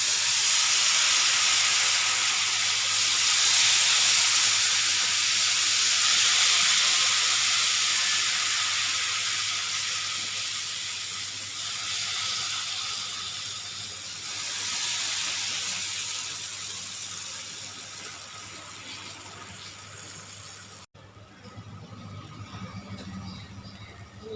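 Rice flour batter poured onto a hot pan for a rice flour chicken roll gives a steady, loud sizzling hiss that swells and eases over about twenty seconds, then cuts off abruptly near the end.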